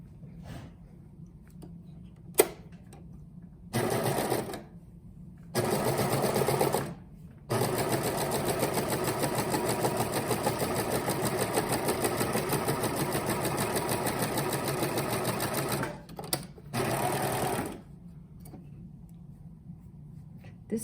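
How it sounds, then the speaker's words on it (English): A serger sewing machine with cover stitch capability stitches a fabric face mask, running in several bursts with short pauses between them and then one long steady buzzing run, close and loud. "This serger also does cover stitch and stuff"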